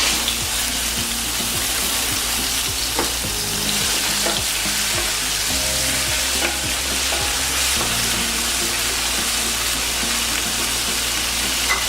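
Chopped tomatoes and two green chillies sizzle and fry in hot oil in a pan for a capsicum curry, with a steady crackle and occasional stirring scrapes, close and continuous.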